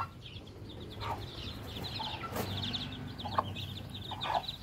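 Backyard chickens with a fresh batch of newly hatched chicks, several short clucks and chirpy calls scattered over steady low farmyard ambience, moderately close, with no talking.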